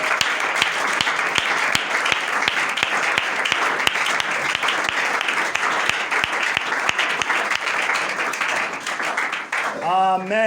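A church congregation bursts into sustained applause and cheering during a service, steady rhythmic clapping with a loud, continuous crowd roar, and a voice breaking in at the very end.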